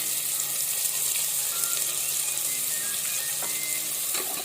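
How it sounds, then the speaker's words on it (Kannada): Onions frying on a medium flame for mutton gravy, a steady, hissing sizzle at moderate volume with a few faint clicks and no talking. "ಆನಿಯನ್ ಈರುಳ್ಳಿ ಒಳ್ಳೆ ರೀತಿ ಫ್ರೈ ಆಗಿದೆ"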